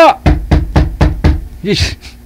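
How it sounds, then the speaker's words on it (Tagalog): A palm slapping repeatedly on a table at home, six sharp close thumps in a steady rhythm, followed by a voice calling out. "Masakit itong palad ko kakahampas ng mesa ko dito."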